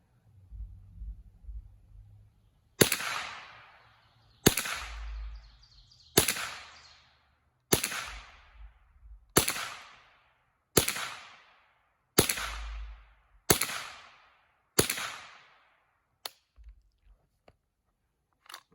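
.22 rimfire rifle firing Eley ammunition: nine sharp, loud shots spaced a couple of seconds apart, each with a short decaying tail, followed by a few fainter mechanical clicks at the end.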